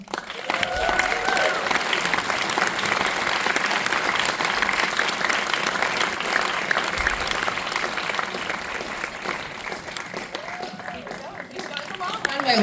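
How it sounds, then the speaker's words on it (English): Loud, sustained applause from a large audience at a film panel event for a Springsteen biopic, with cheers and voices rising over the continuous clapping throughout. "Please keep the applause going."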